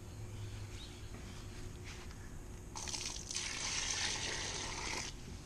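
Water pours and trickles into a dry bag laundry washer, a faint steady dribble that swells into a brighter, fuller splashing pour midway and then cuts off near the end.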